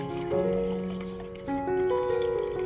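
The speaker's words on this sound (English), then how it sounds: "I poured the prepared cinnamon water into the container" Cinnamon water poured into a container holding orchid roots and cuttings, a close, continuous splashing fill with a ringing tone that shifts upward as the container fills.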